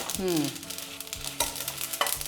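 Mustard seeds and fenugreek seeds crackle and sizzle in hot oil for a gongura chutney tempering, with a stirring scrape early on and sharp pops near the end, close and fairly loud.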